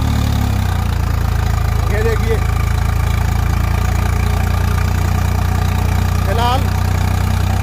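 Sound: Swaraj 855 4x4 tractor engine running

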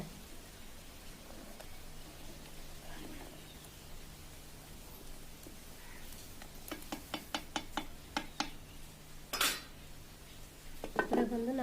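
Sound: stirring curry in a pot

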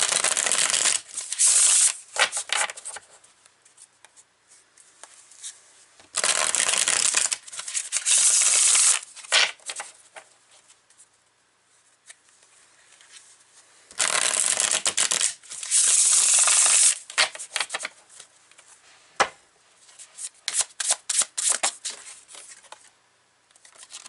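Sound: tarot cards being shuffled and pulled

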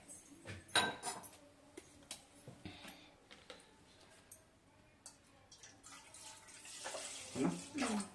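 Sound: water being poured into pot

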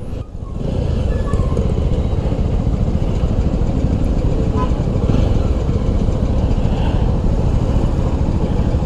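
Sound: Jawa 300 motorcycle riding in top gear

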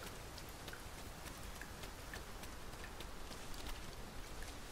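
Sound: rain falling, from the video game Dragon's Dogma 2

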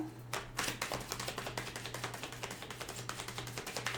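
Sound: shuffling tarot cards

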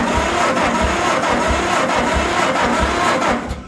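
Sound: John Deere 40 tractor engine running after sitting for years

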